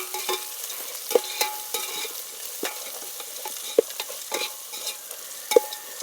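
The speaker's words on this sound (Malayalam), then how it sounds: "ഇനി ഇത് നന്നായിട്ടൊരു ഗോൾഡൻ കളറായി വരട്ടെ അതുവരെ നമുക്ക് ഇളക്കി കൊടുക്കാം" Sliced onions fry in a pan with cardamom and cloves, giving a quiet sizzle under irregular scraping strokes and a few sharper clinks from a spoon against the pan. The sound is close and unhurried, with no speech.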